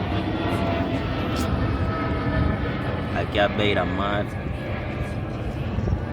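An airplane passes overhead at the seaside, a broad engine roar that rises and swells steadily while someone talks over it.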